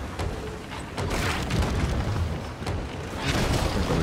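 Heavy cannonballs slam into a wooden ship in a naval video game, a dense barrage of booming, crunching impacts that swell and ebb across the moment with no voices over them.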